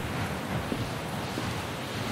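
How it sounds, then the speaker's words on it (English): Steady broadband wind rushing past high in the mountains, a constant whooshing roar with slight gusts and no other distinct sounds. "we are up high in the mountains, so it would be windy, which is why you can hear it"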